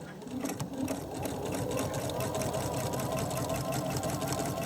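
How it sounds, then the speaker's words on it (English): A sewing machine stitches steadily around a home decor envelope-closure pillow cover, its fast even whirring stitch rhythm continuing close and clear throughout. "So we're going to stitch around."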